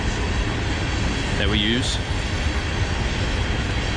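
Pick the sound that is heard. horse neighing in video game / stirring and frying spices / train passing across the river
train passing across the river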